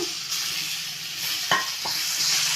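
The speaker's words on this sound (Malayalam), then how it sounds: "അരിഞ്ഞ് വെച്ചിരിക്കണ സവാള മൂന്ന് ഇടത്തരം സവാള എടുത്തേക്കണം സവാള ഇട്ട് കൊടുക്കുക" Chopped onions, three medium ones, sizzle steadily in a hot pan for a Kerala-style egg roast, with a couple of sharp stirring scrapes near the middle and no voices over the continuous frying hiss.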